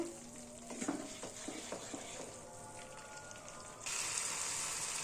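Spice masala frying in a pan for vegetarian potato dum, a steady close sizzle with faint stirring clinks, growing slightly louder near the end.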